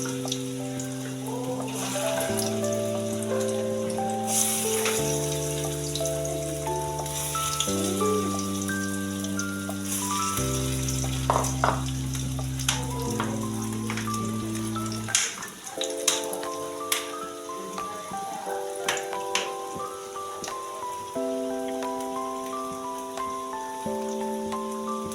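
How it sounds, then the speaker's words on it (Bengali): Red lentil fritters frying in oil give a steady crackling sizzle throughout, partly masked by louder melodic background music with stepped tones. "আমি সবগুলো এক এক করে দিয়ে দিলাম তেলের মধ্যে।"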